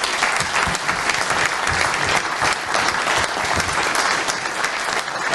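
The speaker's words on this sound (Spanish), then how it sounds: "les quería proponer un aplauso para este grupo" Dense, steady applause from an audience at a family livestock farming conference panel, continuous and fairly loud for the whole stretch with no talk over it.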